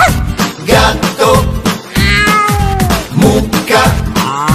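Several children's voices imitate a cat's meow in sliding, wavering tones over a lively, rhythmic Italian children's farm-animal song.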